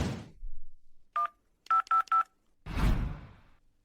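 A telephone number dialed on a keypad: one short tone, then three quick tones in a row, sharp and clear, with a muffled thump before and a rustling burst after.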